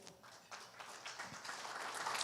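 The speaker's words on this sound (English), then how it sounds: "yes, that does need an applause" A meeting audience breaks into quiet applause, faint at first and swelling gradually as more people join the clapping.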